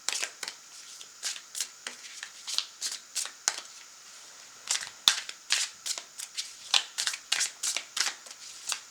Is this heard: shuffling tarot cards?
yes